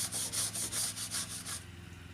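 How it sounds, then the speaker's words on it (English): Brush scrubbing under the bonnet of an Opel engine bay with Meguiar's engine cleaner: about seven quick, rhythmic rubbing strokes, close and fairly loud, then fading to a softer scratch. "I will just keep on scrubbing"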